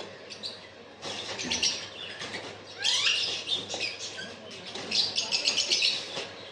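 Many small caged birds chirp and tweet continuously in a busy chorus, with dense overlapping calls rising and falling in loudness throughout.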